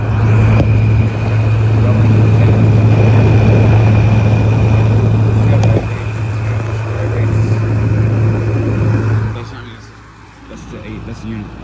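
A Frigidaire FFRE08L3S1 8000 BTU window air conditioner runs with a steady loud hum and whooshing airflow, close and constant, easing off slightly near the end, as a person talks over it.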